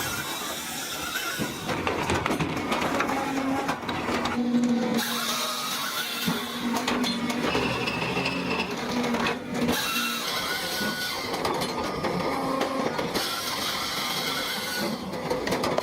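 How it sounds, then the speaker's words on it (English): Wood splitting machine with a spinning circular saw cutting through large logs, a continuous mechanical whine and grinding with shifting pitch and rattling clatter, fairly loud and steady throughout. "The spinning circular saw drops instantly, a blur of steel slicing through wood with surgical precision"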